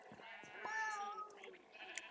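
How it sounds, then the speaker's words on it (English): A sheep on a farm in a video game gives a drawn-out, wavering bleat with fainter animal calls around it. "Sheep are all ready to shear again."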